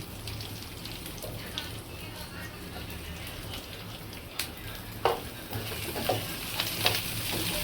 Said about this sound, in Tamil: இப்போ இதை வந்து நல்லா வதக்கிக்கோங்க